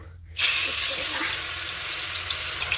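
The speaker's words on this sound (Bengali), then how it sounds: "এটাতে তেল আর একটু বাটার গরম করে নিছি। আমি এখন চিকেনগুলো দিয়ে দেব।" Four chicken pieces go into hot oil and butter in a large wok and burst into a loud, steady sizzle that starts abruptly and keeps a broad hiss for several seconds.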